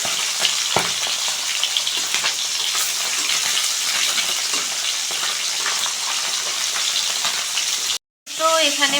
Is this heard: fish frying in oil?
yes